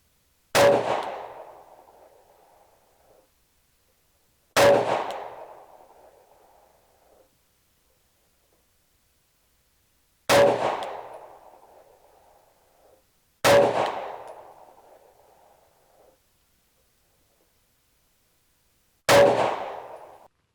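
Five loud, sharp Sig Sauer P365 pistol shots at an outdoor shooting range, spaced a few seconds apart, each with a decaying echo and no talking.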